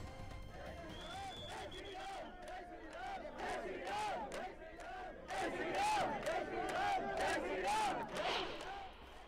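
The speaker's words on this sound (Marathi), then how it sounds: "तर या निर्णयानंतर एकच जल्लोष करण्यात आलाय" Jubilant crowd of state transport bus employees celebrating after their demands were met, with loud, overlapping chanting and shouting voices in rising waves that swell louder toward the middle and end.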